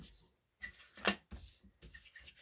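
Paper edges of a handmade jewelry envelope being distressed, short rubbing and scraping strokes up close, quiet and uneven with one sharper scratch in the middle.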